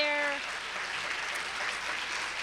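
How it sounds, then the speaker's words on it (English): A round of applause from an audience at an evening awards event for champions of children, steady, fairly soft clapping that begins as a brief tone fades. "Can we give another round of applause for all the champions of children tonight"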